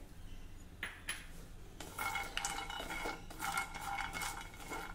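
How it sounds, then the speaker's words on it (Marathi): Cashews are tipped into a pan of roasting almonds and stirred, with a spoon scraping and clinking against the metal pan and the nuts rattling softly in short, uneven bursts. "आता यामध्ये पाव कप काजू घालणार आहे"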